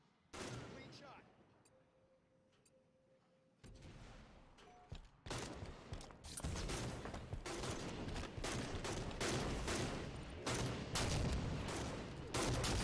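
Sniper rifle fire in the video game Halo 5 comes as a single shot early on, then after a pause a dense run of loud, rapid gunfire bursts continues to the end.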